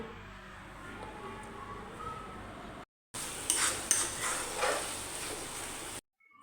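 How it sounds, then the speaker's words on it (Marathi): Coconut and peanut paste is stirred and fried in oil over low heat in a village-style bean vegetable dish, with a soft sizzle and intermittent spoon scrapes and clinks against the pan, broken by two brief silent cuts. "आता याच्यामध्ये खोबऱ्याचं आणि शेंगदाण्याचं वाटण टाकून घ्यायचं आहे आणि मंद आचेवर आपल्याला हे तेलामध्ये छान असं परतवून घ्यायचं आहे"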